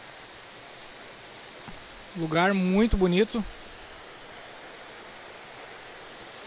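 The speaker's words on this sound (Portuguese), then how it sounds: "Quem é que não curte um som de cascata, né? Esse barulhinho relaxante." Water pours at Cascata São Jacó, a waterfall in Lomba Grande, Novo Hamburgo, as a soft, even rushing hiss heard from some distance. A person speaks briefly over it partway through.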